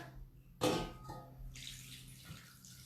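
Hot boiling water pours onto couverture chocolate in a bowl, a short burst of splashing liquid that settles into a softer trickle against a quiet kitchen background.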